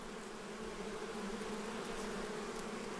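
Thousands of bees buzzing inside a hive form a steady, droning hum that holds a constant pitch and level throughout, close and uninterrupted, with no one speaking.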